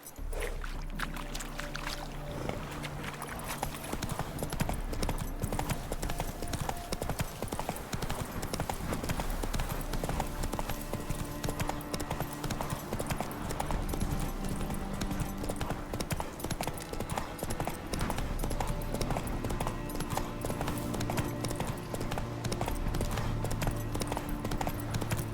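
Horse hooves clip-clop at a gallop in a video game DLC, a fast steady drumming of hoofbeats close up with occasional snorts and a splashy rolling layer beneath, continuing throughout.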